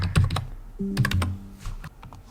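A password being typed on a computer keyboard, with quick bursts of close, crisp key clicks separated by short pauses and no voices.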